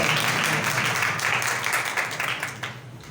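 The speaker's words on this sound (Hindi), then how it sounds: "जरा इस आयत के लिए जोरदार तालियां चाहिए" An audience gives sustained applause, moderately loud at first and gradually thinning and fading toward the end, with faint voices underneath.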